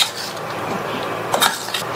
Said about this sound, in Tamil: இதுல நம்ம கிளீன் பண்ண காலிஃப்ளவரை சேர்த்துட்டு நல்லா மிக்ஸ் பண்ணிருங்க